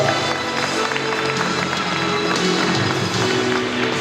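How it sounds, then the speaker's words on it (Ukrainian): Crowd applause fills an indoor wrestling tournament hall, a dense steady wash of clapping held at even loudness throughout, with a few faint voices mixed in. "Оплески!"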